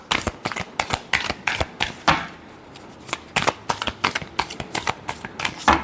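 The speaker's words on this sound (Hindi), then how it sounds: "last shuffle" Tarot cards are shuffled by hand in quick, crisp riffling bursts, a steady series of close, sharp flutters with brief pauses between them.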